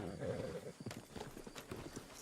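Horse hooves clip-clopping in a quick, uneven rhythm in a Wild West roleplay video game, with a brief whinny near the start, quiet and close.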